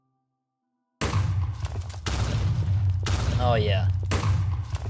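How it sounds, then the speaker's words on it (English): Assault rifle fire in the video game Rust, heavy recoiling bursts after a second of silence, loud and close, repeated in sustained volleys with brief pauses, with someone speaking briefly over it. "So let's go ahead and just take a look at the assault rifle."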